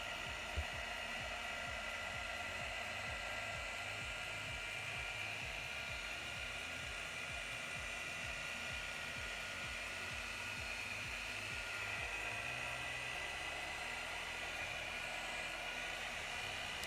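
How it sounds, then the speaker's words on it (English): Rotary polisher buffing car paint with compound on a pad, a steady whirring drone with a rapid low pulsing under it that carries on for about 17 seconds. "the compound is applied for the rotary using an application pad, greatly reducing, and there really is no splatter whatsoever when you do it this way"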